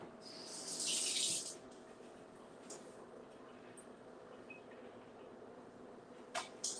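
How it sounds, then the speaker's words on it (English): Kitchen tap water runs briefly over a spoon while baking, a loud hissing rush for about a second near the start, then quieter handling sounds and a couple of small clinks near the end. "I'm just going to rinse off my spoon."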